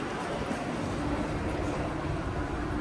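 A Vienna subway train rumbles with dense, continuous broadband noise at steady loudness, heard from nearby inside the station or car.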